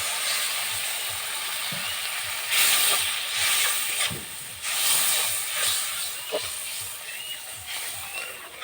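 Water poured into a hot pan with chili powder for a pointed gourd and prawn curry, a loud sustained hiss of steam and sizzle that swells in waves, with faint scraping taps underneath and no talk.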